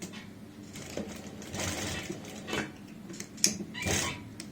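Sewing machine stitching a kurti collar in fine, small stitches on delicate fabric, heard as a few short, quiet bursts of whirring with small clicks between them, with no voices.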